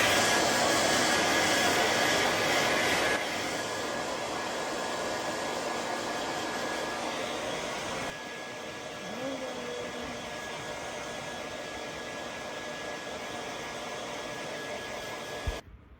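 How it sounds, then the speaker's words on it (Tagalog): A hair dryer blows continuously at close range, a steady loud whoosh that drops in strength twice as the setting changes, then cuts off. "Magbo-blower na ako."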